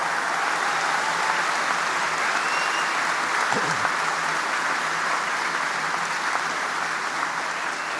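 Steady, sustained applause from a large audience at the commissioning ceremony of USS Gerald R. Ford at Naval Station Norfolk, a dense wash of clapping that continues evenly throughout.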